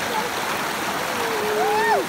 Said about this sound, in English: Put your feet down in the waterfall.